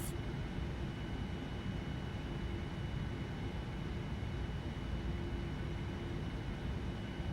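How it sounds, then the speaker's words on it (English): A Boeing 787-9 airliner's engines roar steadily during a rolling takeoff in Flight Simulator X, a constant loud broadband rush with no talking. "And we'll do a rolling takeoff."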